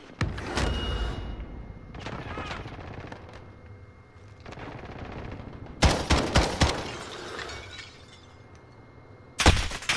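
Video game gunfire in bursts from a rooftop firefight, with loud rapid automatic volleys around the six-second mark and again near the end, separated by quieter stretches of scattered shots and ambient noise.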